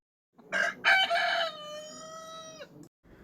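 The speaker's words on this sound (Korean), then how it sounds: "닭소리 한번 듣고 갈게요." A rooster crows once, a loud drawn-out cock-a-doodle-doo with a few short clucks leading in, then silence.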